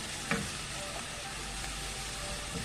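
Ground beef casserole ingredients fry in a pan with a steady, even sizzle, close and moderately quiet, with a brief clatter near the start and no talk.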